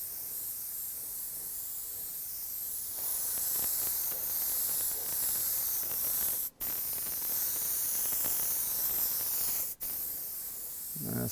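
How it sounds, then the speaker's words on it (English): Compressed air hisses steadily onto candy-red anodized paint to dry it, a loud continuous spray that cuts out briefly twice and then resumes, with no talking. "Spraying air on it, making sure it stays dry"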